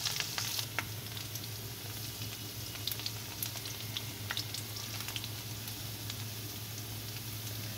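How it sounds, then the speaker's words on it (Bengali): Potatoes fry in a pan with spices in a village kitchen, giving a steady close sizzle with a low continuous hum beneath and occasional brighter crackles and pops. "আলুগুলো ভাজা ভাজা হয়ে গেলে একবার দেখে নিচ্ছি যে ভাজা ভাজা হয়েছে কিনা"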